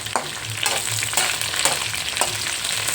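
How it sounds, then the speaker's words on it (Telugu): Onions and green chilies frying in hot oil for an ivy gourd and fresh coconut stir-fry, a loud close sizzle punctuated by several quick spatula stirs. "ఉల్లిపాయలు అయితే బాగా వేగిపోయి పచ్చిమిర్చి వేసుకుందామండి."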